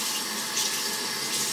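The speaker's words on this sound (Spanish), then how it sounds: "lo primero que hago es humedecerme la cara" Tap water runs steadily into a sink as someone wets their face, a close, continuous broadband hiss of flowing water with no speech.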